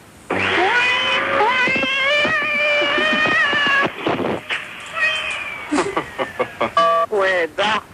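A cat gives a run of drawn-out, wavering meows, loud and close, followed by choppier vocal bursts and talking toward the end.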